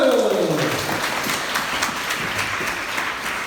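A church congregation at a Sunday worship service breaks into applause after a prayer, a dense, sustained wash of many hands clapping in a reverberant hall, steady and moderately loud.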